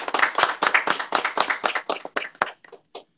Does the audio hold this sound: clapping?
yes